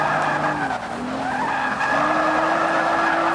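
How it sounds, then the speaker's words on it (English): Tires skid and squeal in a long, wavering screech as a heavy car slides into a drift in the Forza 5 racing game, loud and continuous under a steady engine roar with no talking. "We're just going to use the inertia of the car to actually bring us in to a drift."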